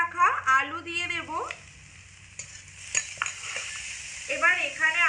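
Grated potato tipped into a pan of lightly fried onion and stirred, giving scraping and soft sizzling under a voice, which pauses mid-clip before speech resumes.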